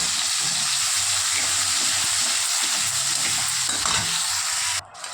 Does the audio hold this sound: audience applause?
no